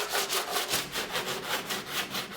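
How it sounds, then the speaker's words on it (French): Sides of an apartment item sanded by hand, with steady rhythmic back-and-forth rasping strokes, about four per second, close and even, and no talking. "maintenant je vais poncer les côtés"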